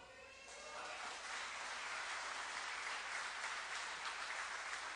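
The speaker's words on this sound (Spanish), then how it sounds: "¿No se merece el Señor un aplauso?" A church congregation claps in sustained, even applause that fills the room, fairly soft and distant, with no voices over it.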